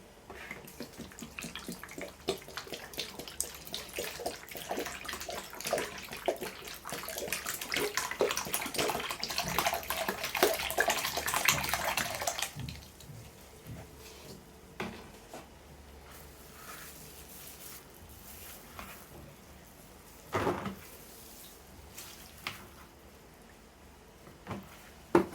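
A liter of water is poured into a bowl when mixing a yam seedling solution: a steady splashing pour lasts about twelve seconds, then gives way to quieter drips and a few small knocks.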